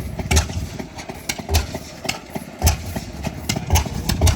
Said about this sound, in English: Oil field engine is what this one and that one running is.